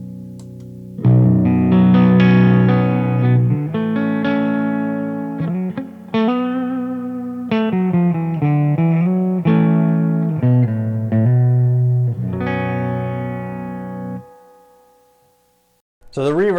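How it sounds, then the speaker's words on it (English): An electric guitar plays chords and short phrases through a Mesa Mark V amplifier, with reverb letting notes ring and decay before a brief pause. "the reverb sounds really great, and you can hardly tell any effect on the tone as you switch it in and out"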